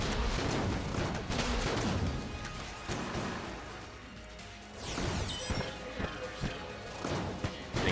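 Gunfire and double explosions crash rapidly in the bullet-hell game Enter the Gungeon, a busy clatter of shots and smashing bursts that keeps up throughout with no voices over it.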